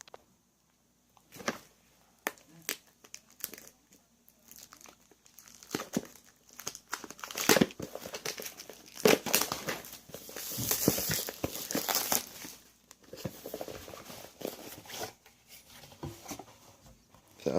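Crinkling plastic wrapper of a Magic: The Gathering card pack being torn open, bursts of crackling and tearing that grow busier midway, close and alone without talk.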